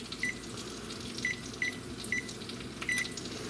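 Oven control panel beeping as the temperature is set, short electronic beeps in an uneven series of about five presses over a faint steady room hum, close and clear with no talking.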